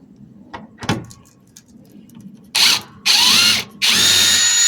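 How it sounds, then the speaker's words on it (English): A power drill backs Phillips screws out of trailer deck boards in three loud, close whirring bursts, each about half a second to a second long, after a few quiet knocks and handling sounds. "We're just going to start taking out these screws. They're just Phillips screws."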